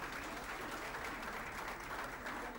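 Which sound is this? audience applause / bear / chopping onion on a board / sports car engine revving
audience applause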